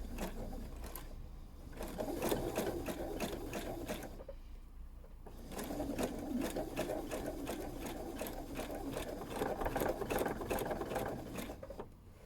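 Sewing machine doing free motion embroidery around an appliqué blackbird wing, running in rapid even stitching bursts with a brief pause near the middle, close and steady.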